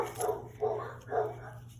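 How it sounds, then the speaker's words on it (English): A few short dog barks, three bursts spaced about half a second apart, fairly close over a steady low hum. "Oops, there's my dogs."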